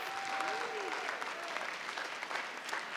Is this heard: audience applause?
yes